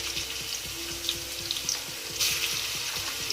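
Ginger garlic paste frying in a pan for chicken pepper dry, a steady close sizzle with faint rhythmic stirring scrapes running through it, brightening briefly partway through.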